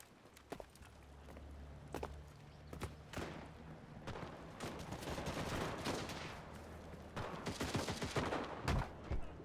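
Dense gunfire and bursts of automatic fire in the war game Mixers: Legends of Terrestria, with a tank shell or mortar hits mixed in. Shots crack close and far in a continuous battle, with heavier blasts near the start and end.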